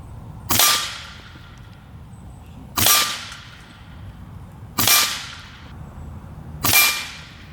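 A PCP air rifle, the Air Venturi Alpha, fires a group of four shots with 15.9-grain pellets. Each shot is a sharp, close crack with a short decaying tail, spaced roughly two seconds apart.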